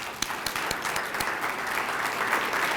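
A Hall of Fame induction ceremony audience gives a round of applause, steady and moderately loud, with a few distinct sharp claps early on.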